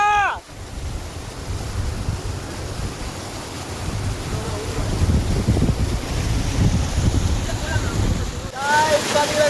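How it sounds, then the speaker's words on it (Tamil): Loud, continuous rushing of the Kilaiyur River flowing with heavy wind buffeting the microphone; brief chirping sounds at the start and end. "வேற லெவலில் தண்ணி வந்துட்டு இருக்கு ஆற்றுல"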